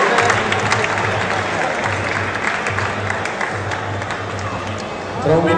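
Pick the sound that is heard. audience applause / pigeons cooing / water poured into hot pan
audience applause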